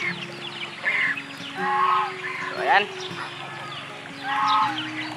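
Farm ducks and geese honk and quack in several bursts nearby beside a fishpond while a person talks through the calls.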